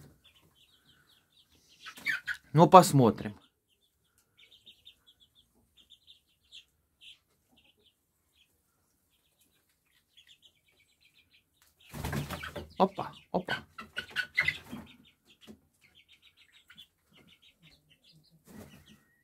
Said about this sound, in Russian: И это, по идее, должна быть курочка, друзья.